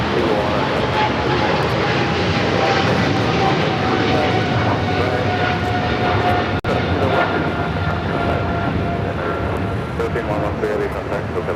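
A Philippine Airlines jet departing LAX for Manila roars loud and sustained, a broad continuous engine rumble holding steady throughout, with radio chatter and talk running alongside.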